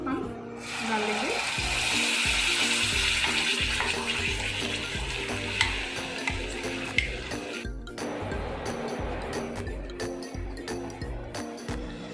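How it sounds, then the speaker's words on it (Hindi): Ground gravy frying in oil in a pan for mutter paneer, a loud sizzle at first that settles down, then rhythmic spoon scrapes and knocks against the pan as it is stirred. "ग्रेवी को हम अच्छे से अब भून लेंगे।"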